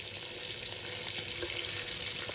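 Rohu fish pieces fry in a pan with lemon peel, giving off a steady, dense sizzle that holds at an even level throughout with no pauses or voices.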